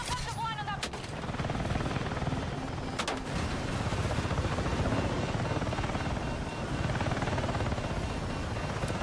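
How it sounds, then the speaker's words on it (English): A helicopter in the video game Battlefield 6 drones with a steady, loud rotor thrum, broken by sharp bursts of gunfire near the start and around the three-second mark, with voices in the mix. "ripping it up in this helicopter"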